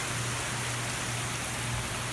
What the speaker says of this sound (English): The rain has picked up, and so has the wind in town.